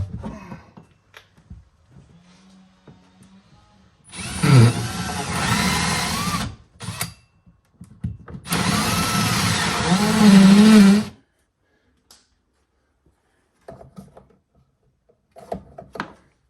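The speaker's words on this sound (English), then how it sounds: "I'm gonna go ahead and try to drill a hole through there" A power drill whirs in two sustained bursts, drilling through a homemade trailer part, loud and close, with brief pauses and quiet handling noises between and after.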